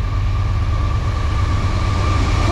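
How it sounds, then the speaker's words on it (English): A Norfolk Southern freight train led by rebuilt locomotives 4639 and 4638 rumbles steadily close by, deep low-frequency roar with a constant hum, no pauses, loud throughout. "A nice shiny locomotive."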